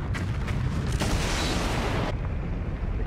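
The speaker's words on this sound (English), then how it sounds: "This is going to be a massive explosion." Massive gas explosion from the animated series Avatar: The Last Airbender, a dense, roaring blast with rumbling debris that swells loudly and then thins into a lingering rumble.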